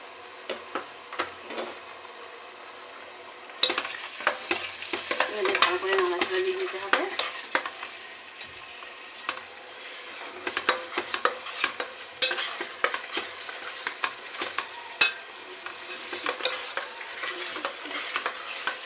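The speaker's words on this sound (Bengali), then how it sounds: "বেশ ভালো করে একটু ভাজা হবে" Salt, turmeric and chilli powder fry in a pan for a potato chotpoti dish, with steady sizzling and repeated scraping stirs of a spoon against the metal. The stirring comes in bursts, is close and moderately loud, and no one speaks.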